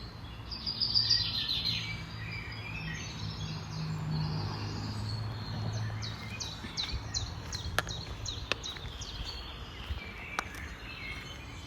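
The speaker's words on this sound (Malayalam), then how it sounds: "നേരം വെളുക്കുമ്പോൾ കിളികളുടെ നല്ല സൗണ്ട്" Birds chirp and tweet intermittently in the morning at a moderate distance over a quiet outdoor background, with occasional soft clicks.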